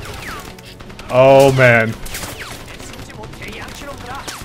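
A short, loud burst of submachine gun fire in the shooter game Crysis is heard up close, with someone speaking briefly before and after it.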